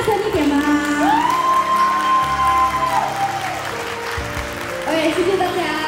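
Wedding dinner guests applaud and cheer with scattered whoops and shouts, a loud dense crowd sound that swells and holds, mixed with voices and a sustained tone over the room.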